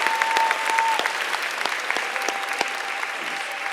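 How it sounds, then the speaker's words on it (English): An audience at a high school senior awards ceremony applauds a student receiving a math award, sustained clapping from many hands with a few sharper individual claps standing out and a faint steady tone running beneath. "please, Manuel a round of applause"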